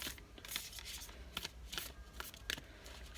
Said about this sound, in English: careful about shuffling these, because it wants to drop in like chunks, and so then it doesn't shuffle very well